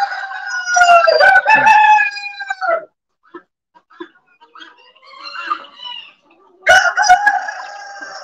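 A rooster crows loudly nearby, twice, with scattered clucks and rustling in the quiet gap between the calls.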